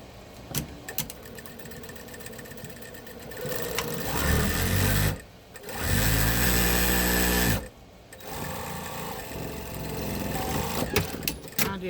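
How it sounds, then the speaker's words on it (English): Sewing machine back stitching a canvas tote bag, close bursts of motor whir that rise and stop, with short pauses between runs and some handling clatter. "let's just back stitch right there"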